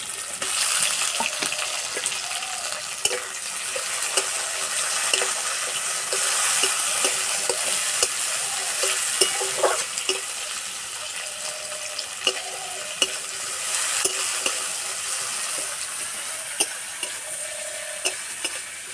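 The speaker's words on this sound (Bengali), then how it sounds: "পেঁয়াজ আর টমেটো হালকা লাল করে ভেজে নেব।" Chopped onion and tomato sizzle steadily in a hot pan while being stirred, with frequent scraping clicks of the utensil over a continuous close frying hiss, for a home-style curry.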